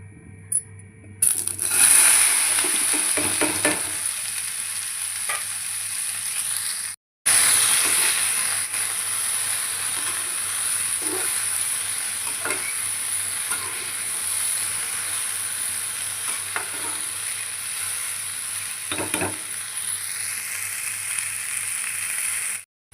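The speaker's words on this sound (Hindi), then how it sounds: "सरसों का तेल मैंने डाल दिया है, इसी में मैं लगाऊँगी सब्ज़ी को तड़का।" Steady hiss of okra frying in hot mustard oil in a pan, with faint clinks and scrapes, continuous and close, briefly cut off partway through.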